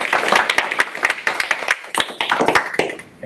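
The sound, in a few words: audience applause for a speaker at a meetup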